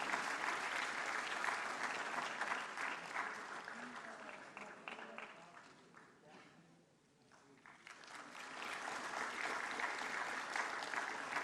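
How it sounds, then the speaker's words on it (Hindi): An audience applauds at a national awards ceremony where President Kovind presents honours for the empowerment of persons with disabilities. The dense, sustained clapping dips briefly midway, then swells back to full strength. "जोरदार तालियों से इनकी हौसला अफजाई कीजिए।"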